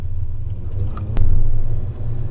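A Honda race car, either a K-series-swapped EG Civic or a Euro R Accord, rumbles as it pulls out onto a race track for laps. It gives a steady, loud low engine drone that swells briefly midway.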